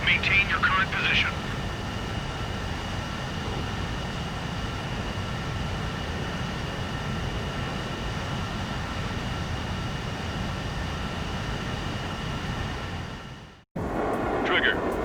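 Jet aircraft engines drone steadily during aerial refueling in the Ace Combat 7 video game, a loud sustained roar with faint radio-style tones, cutting out abruptly near the end before resuming.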